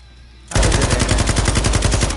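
Rapid automatic gunfire in Call of Duty Warzone bursts in after a half-second of quiet and stays loud and steady as a fast, evenly spaced rattle of shots to the end.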